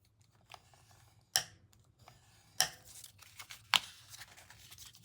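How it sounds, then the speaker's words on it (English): Paper folds being burnished with a bone folder while making a gift card and candy box, three sharp scraping strokes spaced about a second apart over faint rustling, close and quiet. "then I'm going to use my bone folder again"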